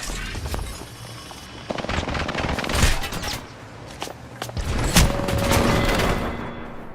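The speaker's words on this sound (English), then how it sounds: "You can't dodge heavy artillery." Heavy artillery gunfire in a video game: rapid bursts and booming volleys crack in dense clusters, loud and close, with sharp impacts punctuating a continuous roar of battle.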